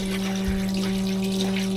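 Cheap pink RV antifreeze from a gallon jug is poured down the drain of a Casita travel trailer during winterizing, giving a steady, close liquid gurgle over a constant low hum, with no talking.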